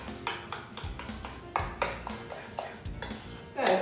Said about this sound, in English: And then I'm going to stir that all into the soup until it's dissolved.